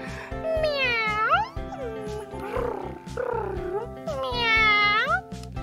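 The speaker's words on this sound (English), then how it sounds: "Let's make the sound of it. Meow. Yeah, a cat." A cat meows twice in long, rising and falling cries over a steady rhythmic beat, with a softer vocal sound between them.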